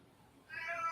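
A single cat meow rises in the second half, close and moderately loud, following a brief stretch of quiet room tone.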